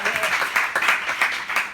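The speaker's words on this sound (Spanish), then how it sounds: "Un aplauso para nosotros." Applause and clapping from a small group of people, dense and steady for a couple of seconds, with voices mixed in.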